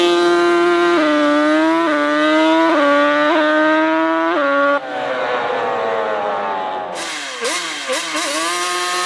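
A 1050-horsepower all-wheel-drive Honda Civic hatchback roaring close and loud through repeated hard acceleration, its engine note climbing and dropping sharply with each quick gear change, followed by a rougher stretch with crackling bursts.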